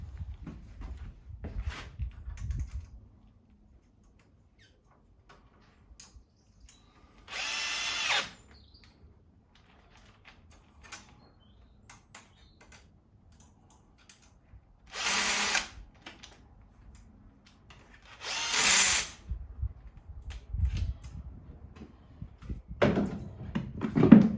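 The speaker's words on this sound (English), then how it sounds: "lazy man uses a drill driver" A cordless drill driver whirs in three short, loud bursts, driving screws into a bike basket, separated by quiet pauses, with faint handling clatter between.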